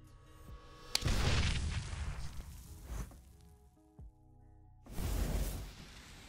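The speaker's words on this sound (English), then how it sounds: "An explosion like that?" An explosion in a Hunter x Hunter anime episode: a sharp crack followed by a long rumbling blast that fades out, then a second heavy roaring burst a few seconds later, fairly quiet overall.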